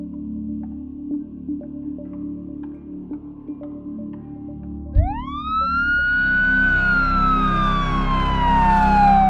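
Engine rumble builds, then a loud siren winds up sharply and holds a long wailing tone as a heavy vehicle passes nearby.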